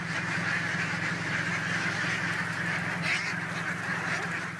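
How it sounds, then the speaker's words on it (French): Ducks quack steadily on a rice paddy duck farm, a dense, continuous flock chorus heard close and fairly loud throughout, with no talking. "il n'est plus rare d'apercevoir de grandes fermes de canards"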